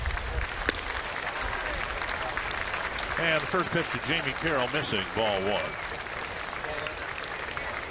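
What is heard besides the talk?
baseball crowd applauding fan hit by foul ball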